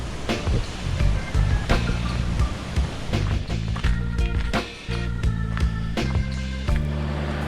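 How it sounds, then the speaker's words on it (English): A large waterfall along the road to Hana on Maui roars as a steady, loud broadband rush of falling water, continuous through the whole stretch with occasional louder splashes and no voices. "It's epic, epic waterfall."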